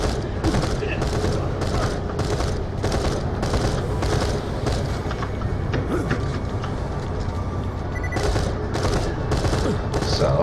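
Rapid gunfire from a video game weapon shooting three-round bursts, repeated sharp volleys in a regular rhythm that continue steadily throughout, loud and close, with a voice talking intermittently underneath.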